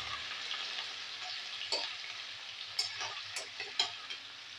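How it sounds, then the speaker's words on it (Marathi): Chopped onion and curry leaves sizzle softly in a pan, with a continuous frying hiss broken by a few sharp spatula scrapes and clicks, fairly quiet and with no voices. "कांदा टाकल्यानंतर जे मी कढीपत्ता स्वच्छ धुतलेला आहे तो सुद्धा यामध्ये ॲड करणार आहे. छान असं मस्त परतून घेऊया."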